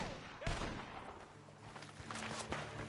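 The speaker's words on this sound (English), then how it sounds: "gunshots are coming from that barn!" Gunfire from a barn in a PS4 video game: a couple of faint, distant-sounding shots over a low, busy game background.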